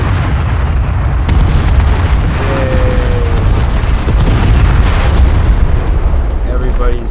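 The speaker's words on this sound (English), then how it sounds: "With a celebratory kaboom." Explosions in the war video game Call to Arms: a loud, continuous stretch of booming blasts and crackling bursts, with several sharp impacts near the middle and toward the end, mixed with game noise.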